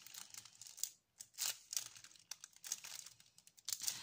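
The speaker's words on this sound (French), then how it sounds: "Je suis désolée parce que vous allez entendre le bruit du papier." Crinkling of thin plastic wrapping, a steady stream of sharp crackles and rustles close up, with one brief pause, no voices.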